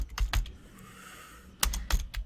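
Typing on a computer keyboard, with clusters of quick clicking keystrokes near the start and again toward the end, separated by a quieter pause.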